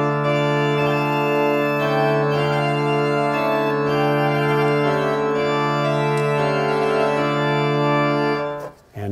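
A pipe organ combining bourdon, trompette and flute stops holds full sustained chords with shifting inner notes, rich and steady, ending in a sudden cutoff, with no talking.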